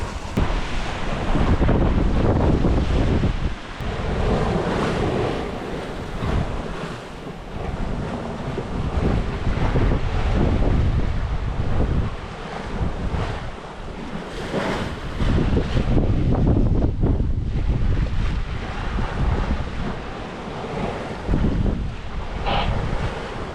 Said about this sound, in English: There's been a lot more wind than forecasted.